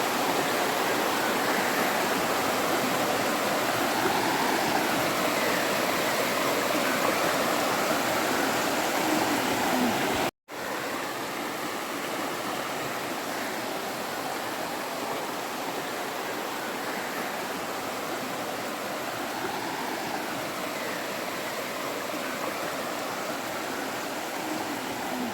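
River water flows steadily as a loud, broad rush close by, continuous for the whole stretch apart from one brief cut, with no voices.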